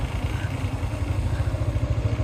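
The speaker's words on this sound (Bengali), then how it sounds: "সামনে এক মোটর সাইকেল, পিছনে এক মোটর সাইকেল।" Motorcycles ride at night in Bangladesh while carrying a cow. A steady, close engine drone runs throughout with a fast, pulsing rhythm and no talk.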